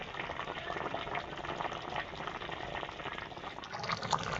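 Fish curry broth boiling in a pot, a soft continuous bubbling and faint sizzle at low volume, steady throughout with no talking.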